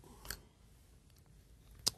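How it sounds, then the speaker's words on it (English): Scissors cutting curves out of cardboard make two quiet, isolated crisp snips about one and a half seconds apart against a near-silent background. "Now I take those curves and I cut them out."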